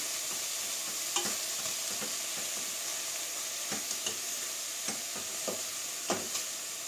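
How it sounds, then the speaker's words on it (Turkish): Steady sizzling of beef cubes searing in a hot pot, with occasional soft clicks and pops scattered through the hiss. "Şimdi kuşbaşımızı, dana kuşbaşımızı tenceremize atalım."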